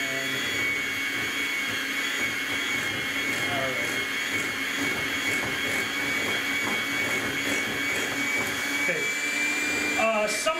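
An electric kitchen mixer whirs steadily at speed 3 through brownie batter, a continuous loud motor drone with a brief rattle near the end, no talking.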